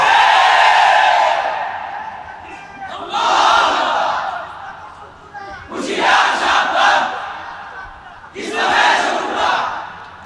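A large crowd at a religious gathering roars a chant in repeated loud surges, several bursts of massed voices rising and falling one after another.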